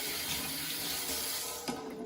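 A tap runs steadily into a sink during handwashing, a close, even splashing hiss that lasts about two seconds, ending in a short clunk as the flow changes.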